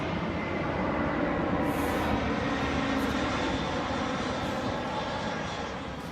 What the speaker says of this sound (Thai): ไอ้เครื่องบิน นี่มันบินผ่านหลังคาบ้านเชฟด้วย